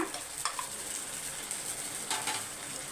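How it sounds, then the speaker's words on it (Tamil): Small onions and tomato paste fry in sesame oil, making a steady close sizzle with a few soft stirring scrapes from a spoon in the pan, and no voices. "அந்த நல்லெண்ணெயில் அந்த சின்ன வெங்காயம் வதங்க வதங்க அவ்வளோ மனமாக இருக்குது"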